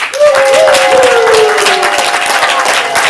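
Loud, sustained audience applause and cheering for the blue team at a stand-up student showcase, with a rising whistle-like tone and crowd noise running throughout.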